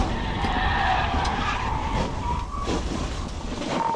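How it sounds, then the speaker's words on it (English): Tires skid loudly on pavement as a police cruiser performs a PIT maneuver on a fleeing stolen truck during a high-speed pursuit, a continuous harsh roar of screeching rubber and engine noise with no talking. "The suspect decided to give the police officer a brake check every time he attempted a pit maneuver,"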